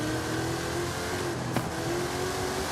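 A powerful Dodge Super Bee muscle car engine in the video game Forza Horizon 5 roars steadily at high revs, a continuous loud drone with a brief surge partway through.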